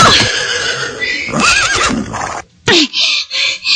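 A horse neighs loudly and close by, a long quavering whinny followed by several shorter snorting calls.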